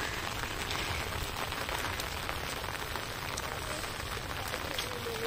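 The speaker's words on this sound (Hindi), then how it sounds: "बारिश हो रही है ना" Steady outdoor rain falls in a continuous dense hiss of drops on surfaces, even and moderately loud throughout with no talking.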